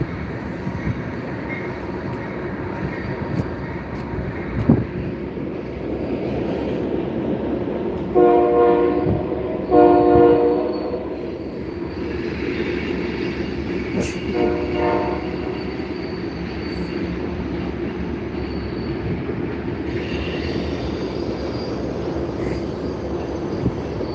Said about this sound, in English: It's a pretty loud train coming in.